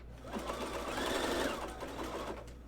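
A sewing machine runs steadily, stitching a zigzag seam on women's underwear, a close, continuous mechanical whir with no pauses.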